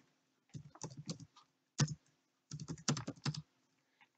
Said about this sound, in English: then we'll type in our data for column B for the Y values.